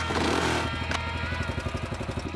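A motorcycle engine revs briefly, then drops into a loud, close, chugging idle with a steady pulsing beat.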